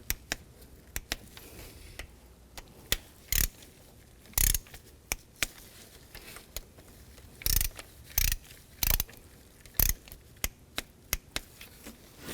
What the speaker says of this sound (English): we're going to torque those to 84 inch-pounds